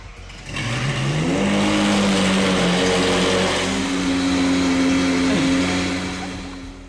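A Ferrari 458 engine cranks and fires up after a battery replacement, then revs up and holds a loud, close, rising idle roar before easing off.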